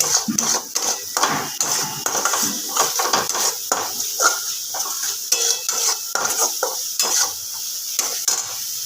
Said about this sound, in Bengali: তলায় ধরে না যায় ভালো করে একটুখানি কষে নেব